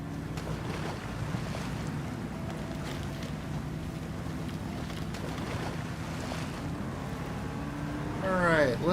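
A vehicle skims across water in the video game Expeditions: Season 4 Amber Dusk, producing a steady rushing wash of water and wind with a low engine drone, continuous and moderately quiet, rising slightly at the end.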